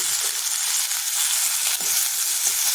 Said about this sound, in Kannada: ಈರುಳ್ಳಿ ಇಷ್ಟು ರೋಸ್ಟ್ ಆದಮೇಲೆ ಒಂದು ಟೊಮೆಟೊ ಹೆಚ್ಚಿಟ್ಕೊಂಡಿದ್ದೆ ಅದನ್ನು ಹಾಕಿ ಮಿಕ್ಸ್ ಮಾಡ್ಕೊಳ್ಳೋಣ